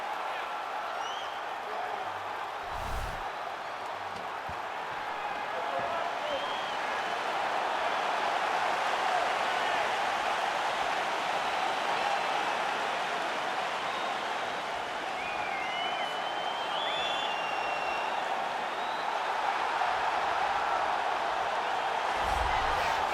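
Sold-out arena crowd in UFC 4 before a flyweight title fight, a steady distant roar of cheering that holds at an even level throughout, with faint whoops rising over it.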